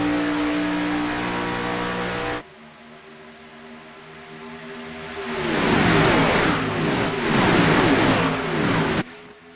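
Stock cars in an Xfinity Series racing video game at Daytona drone with a steady engine tone, then after a brief cut swell into a louder, rougher roar of several cars running together, with no talk.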